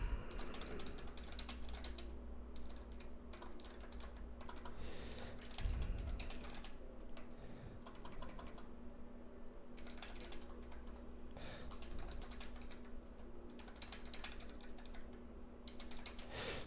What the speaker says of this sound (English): I'm just going to type to them